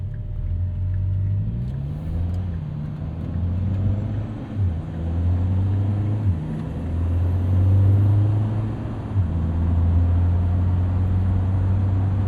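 A 2024 Lotus Emira Turbo with its 400 hp AMG four-cylinder cruising on an evening commute, a low steady engine drone with rising and falling revs through smooth shifts, close and continuous.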